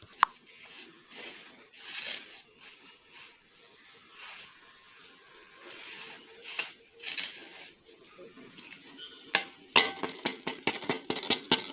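Homemade biryani masala powder shaken through a sieve: soft, faint rustling and light scraping that turns into quick, rhythmic tapping of the mesh against the rim toward the end.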